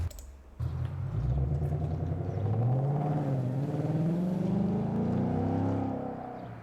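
A newly bought car's engine roars loudly and steadily, a deep rising drone that swells after a brief lower start and holds strong to the end, with no talk over it.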